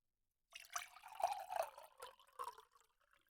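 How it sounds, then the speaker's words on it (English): Water runs from a tap into a cup, starting after a brief silence as a close, faint, gurgling trickle that ebbs and thins toward the end. "Let's get some water running"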